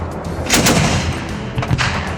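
Dense, overlapping gunfire from many weapons at a tank training exercise, with a BMP-2 and its 30 mm 2A42 cannon, loud bursts and cracks crowding together with no pause, harsh and close.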